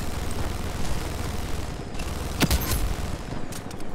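A drone in the online shooter Ironsight drones on in a steady, fairly loud mechanical whir, with a brief sharp crack partway through and no voices.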